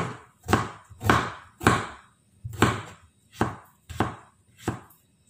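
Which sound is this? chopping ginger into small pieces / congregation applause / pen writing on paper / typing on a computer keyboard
chopping ginger into small pieces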